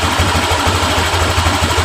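A Honda Vario LED scooter engine idles at about 1500 RPM with a steady low mechanical hum and faint regular pulsing, close and continuous, no voices.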